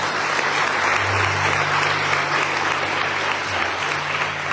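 A church congregation applauding during a Spanish-language sermon, a continuous, even roar of clapping held at one level throughout, with a low sustained tone humming underneath.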